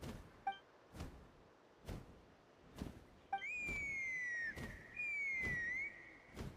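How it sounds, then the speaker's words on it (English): Two long whistle calls in Genshin Impact sound in turn, each a sustained, slightly sliding tone lasting about a second, heard over regular soft thumping footsteps and faint game ambience. "That sounded like a whistle."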